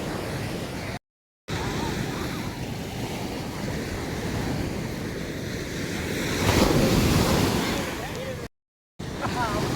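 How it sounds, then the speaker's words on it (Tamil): Rough sea surf crashes onto Pondicherry beach with loud, continuous roaring waves and heavy wind buffeting the microphone, swelling stronger toward the end. "கடல் வந்துட்டு இப்போ ஆக்ரோஷத்தில் இருக்குது"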